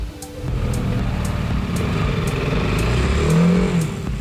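A TVS Apache RR 310 motorcycle engine, retuned for a bassier note, drones steadily on a race track, holding a fairly constant loud tone with a slight rise near the end.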